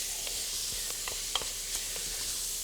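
Minestrone vegetables with garlic sweat and sizzle in a pan, a steady soft hiss with a few faint crackles and pops, alone without talk.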